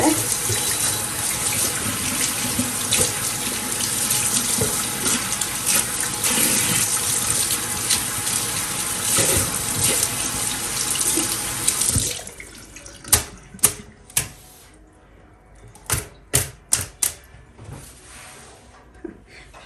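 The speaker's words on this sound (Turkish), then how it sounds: "Hemen şu yağ çözücüyle biraz şu içindeki e, filesini yıkayayım." Tap water pours loudly and steadily into a kitchen sink while a sink strainer is washed with degreaser. The flow stops after about twelve seconds, followed by a series of sharp knocks and clatters.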